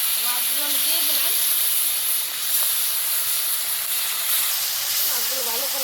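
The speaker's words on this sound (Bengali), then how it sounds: "মাছগুলো ভালো করে ভেজে নেব।" Fish fry in hot oil in a home kitchen, a broad, steady sizzling hiss that carries on without a break, with a voice speaking over it at the start and end.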